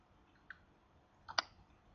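A computer mouse button clicks twice while a Salesforce Lightning page is set up, a lone soft click followed by a sharper one, close and crisp over faint room hiss.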